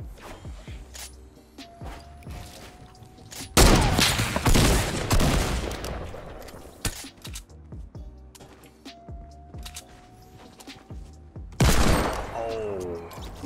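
Video game gunfire: rapid bursts of loud, close shots in dense volleys, with two heavy stretches of sustained fire separated by scattered single shots and quieter gaps.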